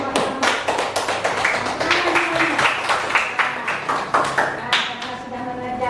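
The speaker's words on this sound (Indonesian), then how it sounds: "Jadi tepuk tangan untuk semuanya." A classroom of schoolchildren claps in a steady, brisk patter of many hands that runs throughout, with some voices mixed in.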